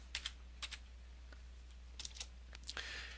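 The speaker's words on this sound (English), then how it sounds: "you can use the arrow keys on your keyboard" Keys on a computer keyboard are tapped in quick pairs and small bursts, close and crisp, over a faint steady hum, with no speech.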